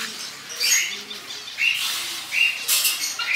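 Birds in an animal and bird enclosure at Mini Ootty, Malappuram, give several short bright chirps and calls in bursts, fairly close, with occasional wing flaps and no talking.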